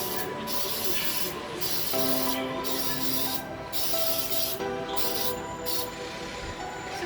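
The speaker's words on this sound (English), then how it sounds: "Sprayed down, good to go." Cooking spray hisses in several short bursts over a kitchen sink, coating a mini Bundt pan for orange cranberry cakes; close and moderately loud, with steady background room noise between puffs.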